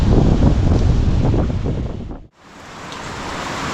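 Heavy rain pours down under a very dark sky, a loud, steady broadband roar that dips out briefly near the middle and then swells back, with no voices.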